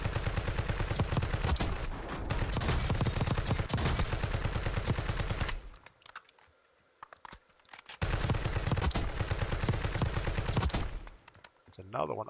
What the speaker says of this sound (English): I'll let the first guy shoot at the second guy